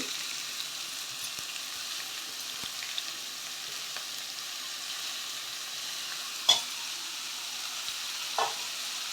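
Vegetables and chopped coriander stir-fried over a medium flame for veg momo filling, a quiet steady sizzle with occasional soft scrapes and two louder clacks of the spatula against the pan.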